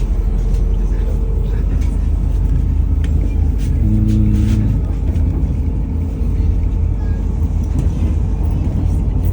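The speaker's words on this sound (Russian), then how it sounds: "Сели в автобус." Passengers ride inside a bus in Leningrad, with a continuous loud low engine rumble, road noise and occasional rattles, and voices talking faintly beneath.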